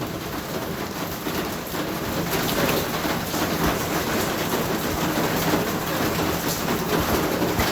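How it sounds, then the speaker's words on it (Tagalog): Heavy, nonstop rain pours down steadily in the Philippines, a dense, unbroken hiss of drops hitting surfaces, close and loud throughout. "Walang tigil ang ulan."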